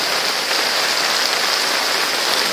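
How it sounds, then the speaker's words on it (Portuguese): Heavy rain pours down steadily during flooding in Itaquiraí, a dense, constant hiss of water on surfaces with no pauses and no voices. "Chuva, hein?"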